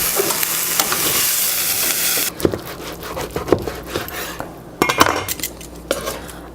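A piece of carne asada is cut in a hot pan: a loud sizzle gives way to knife and utensil scrapes and clinks against the pan, with frying still crackling beneath, no speech.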